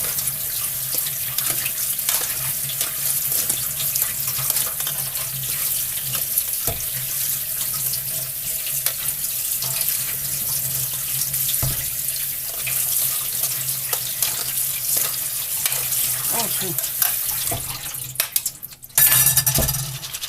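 Buckwheat being rinsed under a running kitchen tap, a steady continuous stream of water splashing into a sink, with occasional light clinks and a louder splash near the end.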